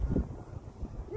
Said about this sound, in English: getting a little windy out